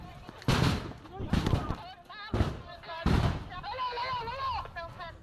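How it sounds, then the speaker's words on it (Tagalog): Repeated blasts of fireworks going off at a burning firecracker factory in Barangay Bigaa, Cabuyao, Laguna, loud bursts in quick succession, with a reporter's voice speaking over the explosions. "Sunod-sunod ang pagsabog habang balot ng makapal na usok ang lugar."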